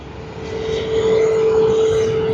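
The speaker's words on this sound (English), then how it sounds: "Here we have American Airlines." An American Airlines airliner at Sydney Airport gives off a steady, loud engine roar with a sustained tone, swelling slightly and then holding level for a couple of seconds, with no talk.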